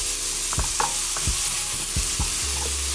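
Food sweating in a pan that already holds oil, a continuous bright sizzle under a few soft, rhythmic stirring knocks from a utensil, near and steady, with no speech.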